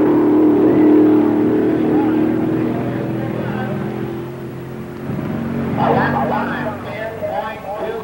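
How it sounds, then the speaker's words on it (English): A 1964 Mercury Comet B-fuel dragster roars down a drag strip, a loud engine drone that fades as the car pulls away, with an announcer talking over it. "That's moving down the strip. Mercury Comet running in B-fuel dragster class."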